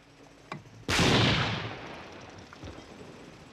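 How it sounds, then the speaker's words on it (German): An explosive blast opens a tunnel at a dam in a 1968 film: a faint thump, then one loud, sharp detonation that rumbles and slowly fades over a few seconds. "Dieser Stollen wird jetzt angesprengt."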